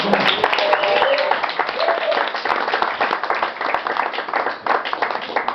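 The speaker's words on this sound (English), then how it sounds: "Please, a round of applause" Applause from a comedy show audience between acts, dense and loud clapping that carries steadily through the whole stretch with no talk over it.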